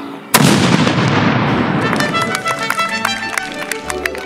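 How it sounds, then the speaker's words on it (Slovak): A second loud shot from a signal cannon booms out at an outdoor 19th-century picnic in front of a manor, its echo rolling away for several seconds while scattered crowd sounds and footsteps follow. "No a ešte jedno! Streľba z dela!"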